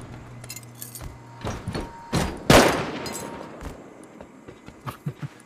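Pump shotgun gunfire in the video game Rust, a few sharp blasts with one loud close shot standing out among scattered clicks and metallic clinks.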